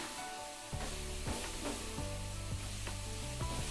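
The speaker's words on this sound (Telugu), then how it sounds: "ఇంట్లో పెట్టుకొని సన్న మంట మీద ఇలా మగ్గ పెట్టుకుందాము" Grated carrot for carrot halwa with khova cooks in a pan on a low flame, a soft sizzle broken by repeated scraping strokes of a spoon stirring close by.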